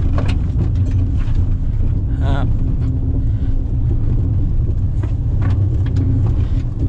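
Car engine straining loudly as it climbs a steep rocky slope with the differential slipping, a steady close rumble with wind buffeting the microphone and a brief voice over it.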